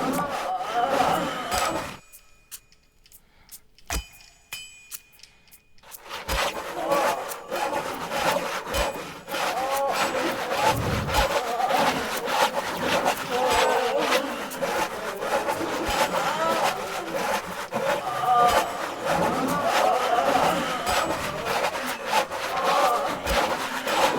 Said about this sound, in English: Suggestive moaning, along with the sound of sawing.